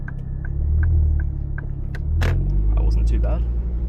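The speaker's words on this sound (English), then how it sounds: "You guys can probably hear the car." A Ford Focus MK2 ST fitted with a Dreamscience exhaust drives up a steep driveway. Its low exhaust rumble swells and fades under a person talking.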